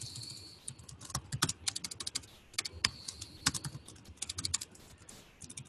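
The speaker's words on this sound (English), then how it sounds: "So let's type that up." Fast typing on a computer keyboard: irregular bursts of crisp key clicks and a few louder clacks, close and clear, with no talking.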